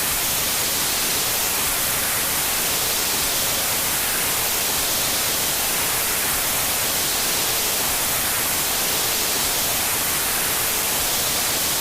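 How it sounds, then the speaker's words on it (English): TV static sound effect from the music game Incredibox, a steady hiss of broadband white noise that holds loud and unchanging for the whole stretch, with no voices over it. "And then we get TV static."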